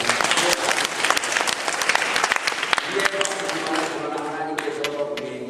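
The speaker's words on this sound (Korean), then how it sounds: "자, 우리 한번 박수 한번 칠까요?" A church congregation breaks into loud, dense clapping that fills the room, then thins out as a speaking voice rises over the fading applause near the end.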